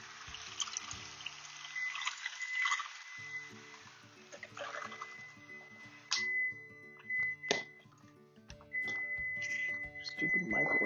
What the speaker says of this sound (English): Stupid microwave.